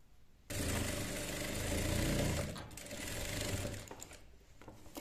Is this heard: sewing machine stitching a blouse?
yes